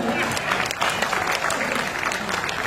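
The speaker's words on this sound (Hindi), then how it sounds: "समझ में आई हो तो तालियां बजा दो।" Dense, steady applause from an audience at a Hindi poetry recital (kavi sammelan) fills the whole stretch, loud and close, with a few voices faintly mixed into the clapping.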